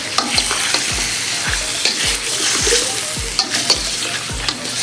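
Green chicken frying over a high flame, with a steady loud sizzle and regular scraping strokes of stirring, about two per second, close up and with no talk.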